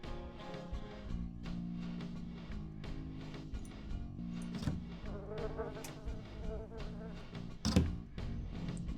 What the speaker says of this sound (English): there were like bees or something in there